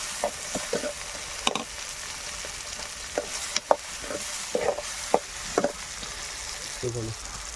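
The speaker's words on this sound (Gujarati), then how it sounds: "અને જે આપણે ડુંગળી અને કે મસાલો સુધારીને રાખ્યો છે ત્યારે આપણે એડ કરી દઈએ અને આને આપણે સાંકળીશું થોડીક વાર લગી" Chopped onion and spices sauté in a pan with a soft continuous sizzle, punctuated by occasional scraping and stirring clicks, fairly quiet and close.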